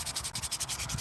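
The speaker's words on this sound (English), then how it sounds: "This is probably the worst part about making natties, is the freaking sanding." Sanding of a spalted yellow birch wood frame, a steady close rasping rub in regular back-and-forth strokes with a brief pause partway through, heard alone.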